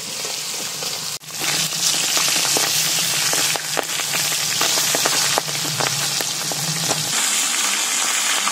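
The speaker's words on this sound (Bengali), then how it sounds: "মাছটাকে খুব ভালো করে ভেজে নেব" Fish heads frying in hot oil for Bengali muri ghonto, a loud dense crackling sizzle with frequent spitting pops, close up and continuous, easing slightly near the end.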